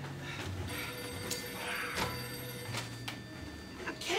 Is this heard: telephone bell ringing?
yes